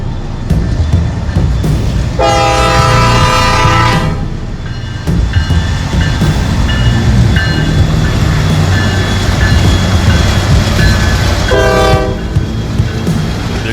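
A train rolls past continuously and loud, its horn sounding in two long blasts amid steady rumbling and rail noise.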